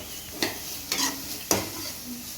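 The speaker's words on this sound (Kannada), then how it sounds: "ಸೊ ಅದನ್ನು ಆ್ಯಡ್ ಮಾಡಿಕೊಂಡು ಚೆನ್ನಾಗಿ ಫ್ರೈ ಮಾಡ್ಕೋಬೇಕು" Capsicum and onion fry in a pan with a quiet sizzle, broken by three brief scraping strokes of a stirring utensil.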